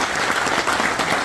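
Steady applause from an audience at a groundbreaking ceremony for a crematorium facility in Geochang County, a dense continuous clapping of many hands throughout.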